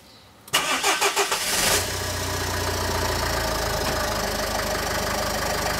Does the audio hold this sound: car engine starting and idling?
yes